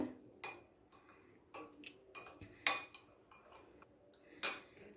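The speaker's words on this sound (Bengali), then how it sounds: "এবারে সবগুলোকে একটু ভালো করে মিক্স করে নেব।" Spoon clinking against a bowl while soy sauce mixture is stirred for chili chicken, a few light metallic taps and scrapes at close range with quiet gaps between them.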